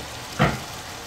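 Two large salted fish laid into hot oil for a fish bhuna give one short, sharp burst of sizzling close by, settling quickly into a faint fry, with no talk.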